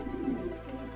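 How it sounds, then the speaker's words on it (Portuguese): Pigeon cooing up close at a home loft, a low continuous murmuring coo over steady background hum, no talk. "Eu creio que esse pombo é daqui de casa"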